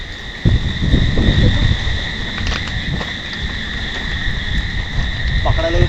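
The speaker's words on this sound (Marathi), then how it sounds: "रातकिड्यांचा आवाज एवढा सुंदर वाटतोय ना" A steady high-pitched insect trill drones on without pause, with a person briefly talking over it near the start.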